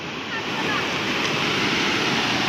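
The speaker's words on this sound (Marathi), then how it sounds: "हे बघा किती फोर्स आहे पाण्याला आता" Loud, steady roar of rushing floodwater pouring over a bridge during heavy rain, a dense continuous torrent close by with no pauses.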